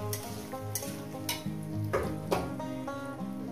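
A coconut paste mixture made with coconut powder and a splash of water sizzles in a pan while a spatula stirs and scrapes it in uneven strokes, close and moderately loud, with no voices.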